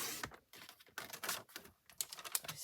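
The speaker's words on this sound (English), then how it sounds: "I'm going to cut this at" Paper being trimmed to 5x7 for scrapbook matting, heard as close, quiet, uneven swishing and clicking cuts in short bursts separated by brief gaps.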